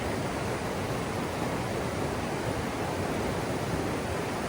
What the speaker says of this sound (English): Wind's blowing pretty big today down here in the valley. River's rushing.